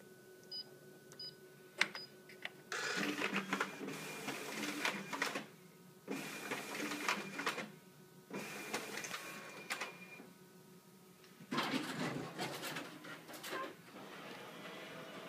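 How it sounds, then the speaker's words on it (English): A Xerox WorkCentre 7328 office copier pulls pages through its document feeder in repeated whirring, clattering bursts of a few seconds each, separated by brief quieter pauses, with a few small clicks at the start. "we're going to run them through the document feeder, make sure that works"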